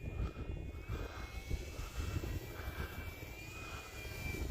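A radio-controlled plane fitted with Dubro skis flies over snow-covered ground, its engine a steady faint buzzing drone heard from a distance, slightly rising and falling as it passes.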